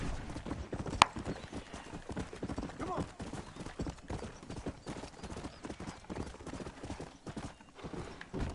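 Horse hooves clip-clop in Red Dead Redemption, a steady, quick rhythm of hoofbeats at moderate distance, with a voice speaking at times over the riding.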